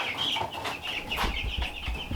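Chickens in a brooder box cluck and chirp steadily at close range, a dense run of overlapping short calls with light scratching and movement underneath.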